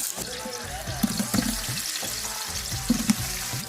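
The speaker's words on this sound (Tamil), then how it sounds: "அடுத்து எண்ணெய் ஊற்றிக்கிறோம். இல்ல வெங்காயத்தை போட்டுக்கிறோம்." Sliced onions and green chilies fry in hot oil for veg biryani at night, a steady loud sizzle with occasional stirring clinks and scrapes of the pan, all close up.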